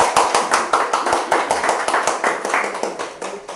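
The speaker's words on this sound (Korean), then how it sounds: "오늘은 우리 처음 오신 분을 위해서 박수 한번 쳐드립시다" An audience at a humanities lecture claps to welcome first-time attendees, a close, loud run of brisk, rhythmic hand claps that holds at an even pace throughout with no talking over it.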